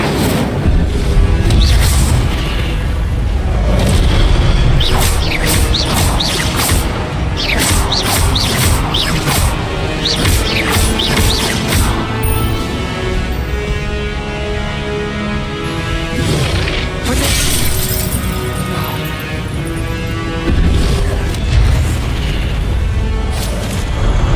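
Incendio fire spell blasts from Hogwarts Legacy, a dense run of loud booming bursts with crackling impacts over a continuous roaring game soundscape, repeating steadily throughout.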